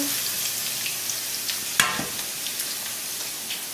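Crushed garlic sizzles steadily in a couple of tablespoons of hot oil, a continuous bright frying hiss with a sharp crackle near the middle and small pops scattered throughout.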